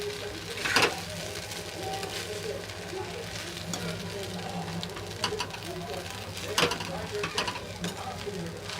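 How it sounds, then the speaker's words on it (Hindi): Poha being stirred in a pan with lemon juice, giving soft scraping and light sizzling with a couple of sharper clinks of the spoon, and faint bird coos in the background. "अब हम इसमें डालेंगे नींबू का रस, इसको भी मिलाएंगे अच्छे से"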